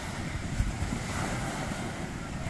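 Ocean surf at Drini beach on the south coast of Gunungkidul, Yogyakarta, heard as a steady, dense wash of waves mixed with wind noise on the microphone, with no voices.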